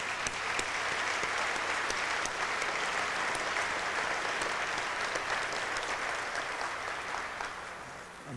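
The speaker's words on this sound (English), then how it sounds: "A round of applause for that excellent band from New Orleans." Audience applause for a band from New Orleans at an event with an Apollo astronauts panel, a sustained wash of many hands clapping that fills the room evenly and fades slightly at the end, with no talking.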